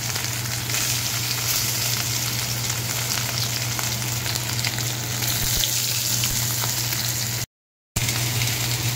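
Paneer pieces fry in white oil in a wok, making a dense, even sizzle that holds steady and loud throughout, cut by a brief gap near the end, with no voices.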